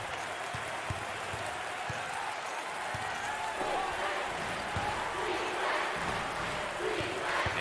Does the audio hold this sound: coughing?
no